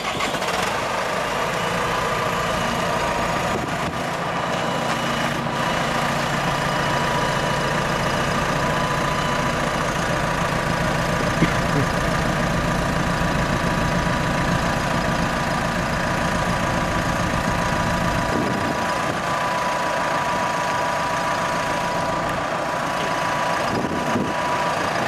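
A new Massey Ferguson tractor and loader's heavy diesel engine idles steadily nearby, a constant low rumble with slight fluctuations and no voices.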